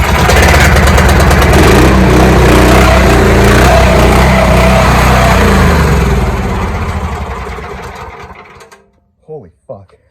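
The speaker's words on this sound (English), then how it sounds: "Hey, engine runs free." A 420cc small engine fitted in a golf cart roars loudly at idle, close and rough with a steady mechanical drone, then winds down and cuts off, leaving a few faint knocks and brief voice sounds at the end.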